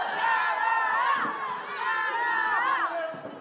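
Wrestling crowd chanting at an indoor match, a rhythmic mass of voices rising and falling in repeated phrases, moderately loud and continuous with a roomy, slightly distant quality.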